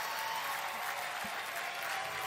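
Baseball crowd at the DBAP in Durham during a playoff finals game, a broad steady roar of cheering and applause filling the ballpark, fairly distant and continuous.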